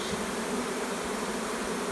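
A honey bee swarm in flight makes a dense, continuous buzzing drone, loud and close, with no pauses.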